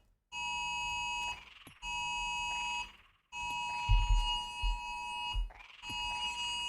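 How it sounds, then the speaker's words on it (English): A phone alert beeps in repeated tonal bursts with short gaps between them, fairly faint and close, during a game session with thuds under one burst. "I think that was my phone."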